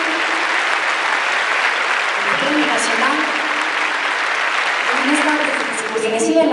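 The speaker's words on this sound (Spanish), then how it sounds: "Fuerte el aplauso para cada uno de ellos." Continuous loud applause from a convention audience honoring mining award winners, the dense clapping sustained throughout while voices are heard talking underneath.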